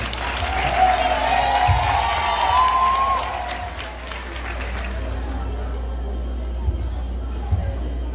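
Audience applause welcoming an honoree to the stage at an award ceremony, a broad wash of clapping that swells and then thins, with a voice briefly audible over it.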